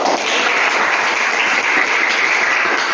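Steady, dense applause from a group filling the whole stretch, loud and close with no pauses, during a clinical supervision coaching session.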